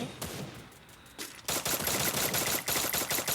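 Rapid automatic gunfire from the mobile battle-royale game Free Fire, a short burst followed by a longer, loud, dense stretch of continuous shots with brief gaps, no voices.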